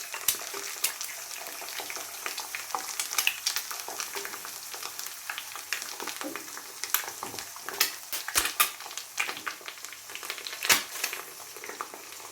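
Egg sizzling and frying in a pan on an electric cooker while making tuna fried rice, with steady crackling spatter and scattered sharp pops close by, no talking.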